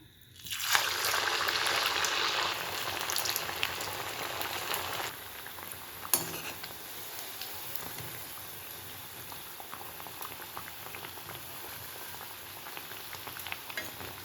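Snacks frying in hot oil in a pan, a loud steady bubbling sizzle that drops to a softer continuous crackle partway through, with a single clink, no talk.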